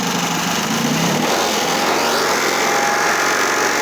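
Small engine of a Toro 724 Proline snowblower running steadily up close, a loud continuous buzzing drone whose pitch shifts partway through.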